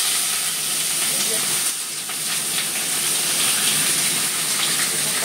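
Chicken pieces for smoked chicken tikka frying in a hot pan, a steady loud sizzle with hissing spatter running continuously throughout.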